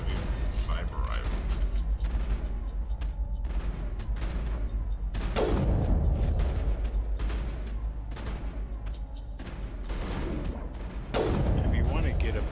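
Sniper rifle shots in the video game Mass Effect crack out as several sharp, booming reports spaced a few seconds apart amid combat noise, with someone talking over them.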